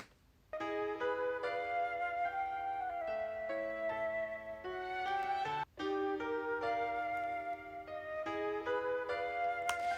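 A music sample, played at its normal pitch, carries sustained layered tones in a steady chordal progression that shift every second or so, with one brief break midway, loud and continuous, without voices.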